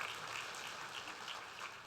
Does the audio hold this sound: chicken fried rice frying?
no